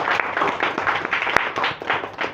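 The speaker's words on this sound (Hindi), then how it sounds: "जोरदार तालियां बजाइए आप लोग" An audience at a yoga championship event claps together in steady, moderate applause. It sounds from a medium distance and carries on without a break for the whole stretch.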